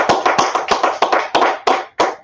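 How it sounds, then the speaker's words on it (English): A small group claps steadily in praise, loud close hand claps in a quick uneven rhythm that fill the clip with no talking over them. "Let's go ahead and clap it up for the Most High"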